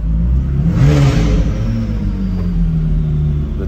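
A luxury car's warmed-up engine that had been stalling now runs steadily close by, with a brief rev swelling early on and then settling into an even, rumbling idle.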